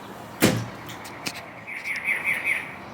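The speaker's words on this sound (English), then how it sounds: "Birds?" Birds chirp outside a hotel window at the RIU Santa Fe resort in Los Cabos, with a run of quick, bright tweets in the second half after a sharp knock, over soft outdoor background noise.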